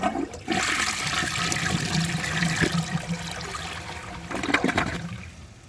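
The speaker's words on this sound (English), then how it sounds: "So let's give this a flush and see how it does on tests." A 2000s AquaSource 1.6 gallon toilet flushes with a loud, rushing gush of water that swirls and drains for several seconds, then surges again before tapering into a trickle.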